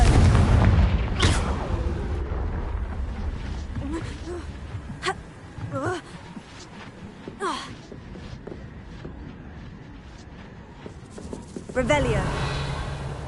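Confringo fire-blast spell in Hogwarts Legacy, a heavy boom at the start, then several sharp bursts spaced over the following seconds, with spoken voices mixed in and another blast near the end.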